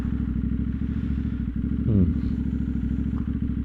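A Duke motorcycle engine putters steadily at close range on a countryside road near Miryang, its rumble broken by a brief clunk and rising rev midway.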